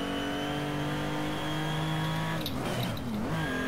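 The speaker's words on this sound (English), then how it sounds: "Missed the gear then." A race car engine drones at steady high revs, then stumbles with a dip and wavering pitch as a gear change is missed, loud and close from inside the car.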